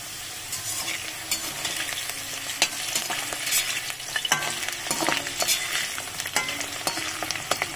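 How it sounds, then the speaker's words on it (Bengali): Red potatoes frying in a pan at a festival pandal kitchen, a continuous loud close sizzle with frequent clattering stirs and scrapes of the spatula throughout. "এখানে লাল লাল আলু ভাজা হচ্ছে"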